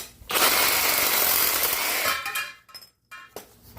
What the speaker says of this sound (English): I gotta cut that brass off.